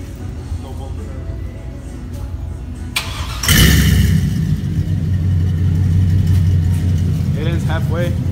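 A car engine cranks and catches with a loud burst, then settles into a low, rumbling idle with some revving, while people talk nearby.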